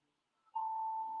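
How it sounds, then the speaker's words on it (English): Phone alarm going off indoors, a single steady electronic tone that starts abruptly and holds on, fairly quiet and alone with no talk. "sorry, my alarm went off"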